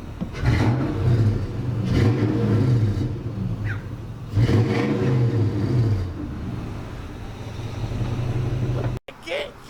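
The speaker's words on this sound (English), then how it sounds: "when your friends give you a chance to rev their car" A friend's car engine revs hard twice in loud, rising bursts over a steady low rumble, close by, with people's voices mixed in and an abrupt cut near the end.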